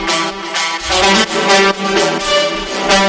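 A bright, buzzy future house synth lead plays short rhythmic chords, dry and upfront with no processing, with a pulsing low end beneath and no voices.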